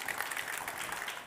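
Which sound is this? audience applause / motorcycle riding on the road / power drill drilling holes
audience applause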